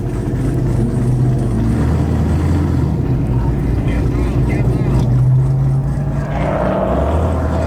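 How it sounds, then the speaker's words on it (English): A loud Mustang race car drives by, its engine roaring and swelling as it passes, with an ongoing rumble of other race cars in the background. "This Mustang in particular is like the most deafening thing I've ever heard in my life."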